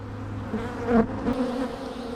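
Honey bees hum on a brood frame pulled from a hive, a close, steady buzz with a few louder individual bees passing near the microphone.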